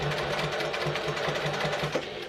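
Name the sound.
sewing machine stitching a clutch wallet seam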